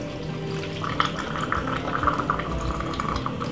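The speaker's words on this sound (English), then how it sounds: "Then we're gonna put some water in it now." Water poured into a blender jug already holding ice and lemonade for a smoothie-style drink, a steady close liquid splash and trickle running for several seconds without talk.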